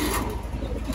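Pigeons in a loft give low, throaty coos close by, a continuous rolling murmur of overlapping calls through the whole moment with no voices.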